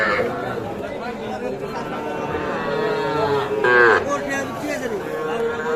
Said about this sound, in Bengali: আমরা আরো কিছু সার বাছুর দেখাই আপনাকে